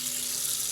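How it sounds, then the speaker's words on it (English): Salty brine water poured onto a gravel driveway, a brief steady splashing hiss, close and alone. "I'm going to pour the salty water in the gravel part of the driveway."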